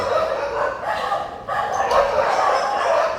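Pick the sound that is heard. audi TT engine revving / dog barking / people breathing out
dog barking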